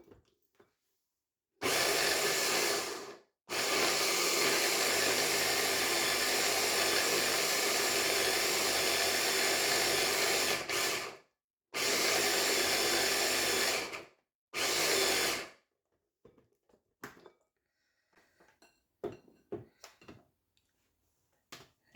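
A small electric chopper grinds mutton with garlic, ginger and green chillies in loud whirring bursts: a short pulse, a long run of about eight seconds, then two more shorter pulses, followed by quiet clinking and handling.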